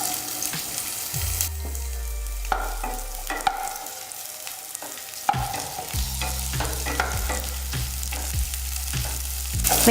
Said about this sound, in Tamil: வெங்காயத்தை வந்து நல்லா ஃப்ரை பண்ணி எடுத்துடலாம்.